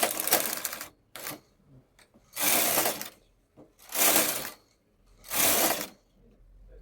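Carriage of a knitting machine pushed back and forth across the needle bed for four rows, each pass a loud, close burst of rattling mechanical clatter separated by short quiet gaps.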